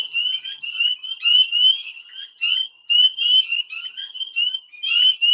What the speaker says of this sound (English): this little spring peeper makes that sound by tightening his lungs